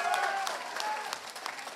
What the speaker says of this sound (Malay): Tepuk tangan kuat-kuat